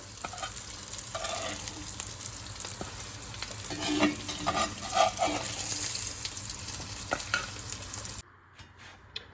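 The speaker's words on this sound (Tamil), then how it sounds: "இதே மாதிரி எல்லா பேட்டியும் நம்ம ரெடி பண்ணி பொரிச்சு எடுத்துக்கோங்க" Paneer burger patties fry in hot oil with a loud, continuous sizzle and occasional louder spatters and stirring clatter, then the frying cuts out near the end, leaving faint background noise; no voices.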